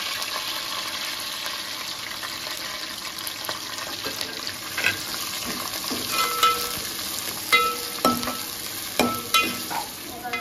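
Chopped onion sautéing with curry leaves, green chili and finely cut potato, a continuous close sizzle under frequent spoon scrapes and clinks that grow louder and more frequent toward the end.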